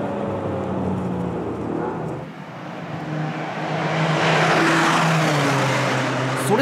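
A Toyota GR Yaris laps Tokachi Speedway, its engine a loud, continuous drone that dips briefly, then swells and rises as the car accelerates.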